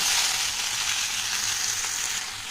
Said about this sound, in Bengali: ভালো করে ভেজে নেব।